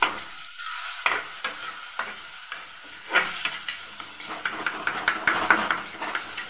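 Tomato paneer being stirred in a frying pan with a spoon, coriander just added: repeated scraping strokes and clinks over a steady sizzle, close and fairly loud, with no talking.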